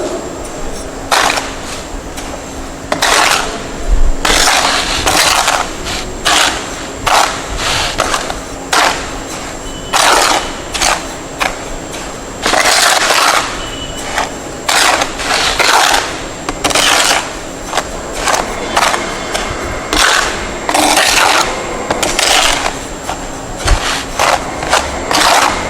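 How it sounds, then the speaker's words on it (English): Cement and fine aggregate being dry mixed by hand for a mortar sample, repeated scraping strokes at an uneven steady rhythm, loud and close throughout with no talk. "I am going to dry mix the cement and fine aggregate sample."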